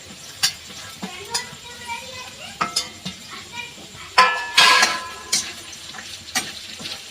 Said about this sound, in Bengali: আমি একসঙ্গেই ভেজে নিচ্ছি।